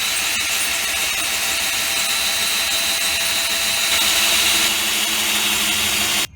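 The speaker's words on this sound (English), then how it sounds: "increase the speed of the power drill, and drill the rest of the hole into the pot." A power drill whines steadily at high speed while the bit grinds through a ceramic flower pot, continuous and loud before cutting off abruptly.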